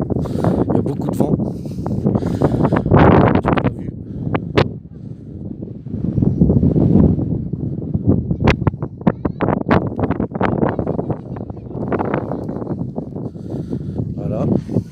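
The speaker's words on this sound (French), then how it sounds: "Il y a beaucoup de vent." Strong outdoor wind in Portugal buffets the microphone with heavy low rumbling gusts that rise and fall throughout, while a person speaks over it.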